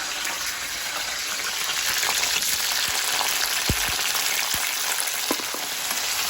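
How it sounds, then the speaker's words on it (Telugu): Green chillies frying in hot oil in a kadai, a steady dense sizzle throughout with a few low thumps and clatters from the pan, no voices. "సో మనం తుంపేసుకున్న పచ్చిమిర్చిని కళాయిలో వేస్తున్నాము"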